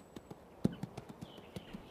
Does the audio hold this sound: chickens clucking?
no